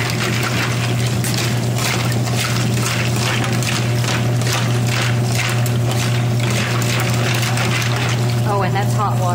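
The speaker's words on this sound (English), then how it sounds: "Oh, and that's hot water." Hot water runs steadily into a kitchen garbage disposal with a constant low mechanical hum, rhythmic gurgling and sloshing pulses beneath it.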